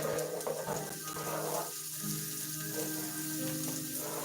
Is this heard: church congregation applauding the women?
no